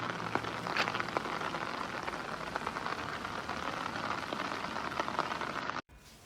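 Steady rain pours down on a rainy school-run day, a dense continuous hiss with scattered drop patters, fairly loud and unbroken until it cuts off abruptly near the end.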